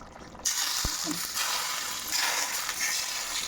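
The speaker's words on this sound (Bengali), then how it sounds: "আর শেষে কিন্তু একটু সরষের তেল গরম করে দিয়ে দিচ্ছি রেসিপির উপরে" Hot mustard oil poured over a raw hilsa fish curry with potato and cauliflower, a sudden loud broadband sizzle that hisses steadily for a few seconds.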